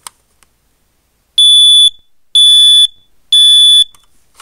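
A smoke alarm sounds three loud, piercing beeps, each about half a second long, evenly spaced with short silences between.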